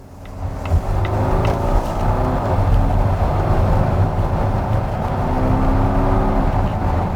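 A Volvo XC90 Recharge hybrid SUV with an 8-speed automatic accelerating, a smooth steady engine and road drone heard from inside the cabin, rising gradually with faint gear-related pitch shifts.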